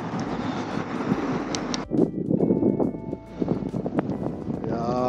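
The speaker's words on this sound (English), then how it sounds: "It's very windy, so I'm going back down." Strong wind buffets the microphone atop Calton Hill overlooking Edinburgh, a loud, steady roar with gusty surges and rumbling low buffeting throughout.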